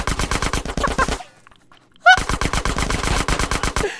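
Automatic gunfire in GTA San Andreas: rapid loud bursts of machine-gun shots, a brief pause, then another long rattling burst, close and dense.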